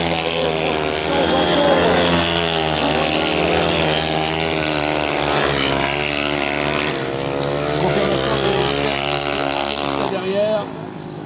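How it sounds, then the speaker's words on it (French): Longtrack racing motorcycles at the 2021 FIM Longtrack World Championship final in Marmande roar continuously and loudly as they open the throttle down the straights, with an announcer talking over the engine noise throughout. "Smolinski qui donne de grands coups de gaz dans les parties droites, qui assure un peu plus sur le virage nord"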